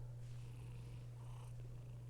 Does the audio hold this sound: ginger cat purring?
yes